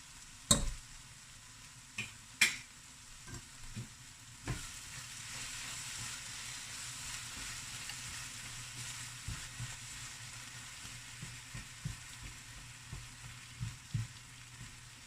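Sauce cooks in a pan with a soft continuous sizzle at low level. Occasional small ticks and utensil knocks punctuate it, including a few sharper taps near the start.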